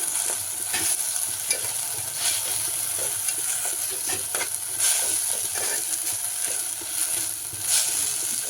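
Raw mango halwa stirred and fried in a pan, a steady close sizzle with repeated scraping strokes of the spoon against the pan, continuous and fairly loud with no talk.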